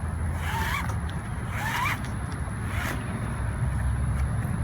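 A strap is pulled through a clasp and drawn tight over a kayak on a car roof, heard as a few quick zipping rasps over loud wind noise outdoors.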